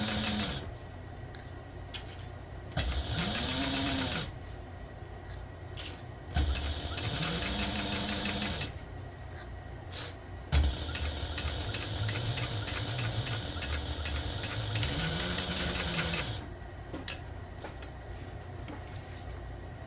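A sewing machine topstitching through a tube-shaped backpack, running in several bursts of rapid, close mechanical whirring and clatter, with brief pauses between runs.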